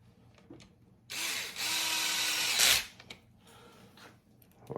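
A cordless power drill on a low clutch setting drives screws into a Traxxas TRX-4 RC crawler: one loud whirring burst of about two seconds ending in a clutch rattle, close, with light handling clicks before and after.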